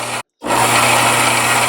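Belt sander running steadily at close range while a mandrel tool piece is rounded at the corners, a continuous broadband whir broken by one brief dropout before resuming at full level.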